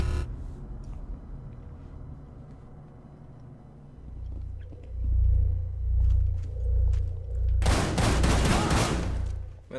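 Shotgun fire in Rainbow Six Siege: a low rumbling boom swells and repeats from about four seconds, then a sharp, loud broadband burst of gunfire near the end over a steady game background.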